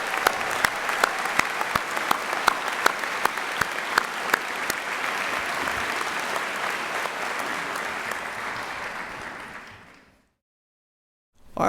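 A large audience at a medical school diploma ceremony applauds loudly and continuously for about ten seconds, then falls abruptly silent.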